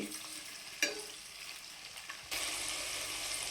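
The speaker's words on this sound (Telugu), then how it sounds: "పచ్చిమిరకాయలు వేగిపోయినాయి" Ginger and green chilli pieces frying in hot oil for a South Indian tamarind pulihora, a steady sizzle with a sharp stir clatter early on and a sudden louder burst of crackle near the end, no talking.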